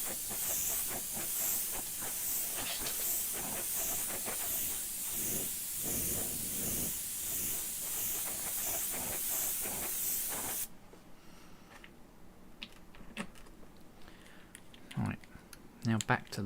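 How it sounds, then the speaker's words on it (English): An airbrush blows a steady, close hiss of air to dry freshly sprayed paint, running for about ten seconds before cutting off. Faint handling clicks and bumps follow in the quieter room. "Just use the air from the airbrush, make sure that's completely dry."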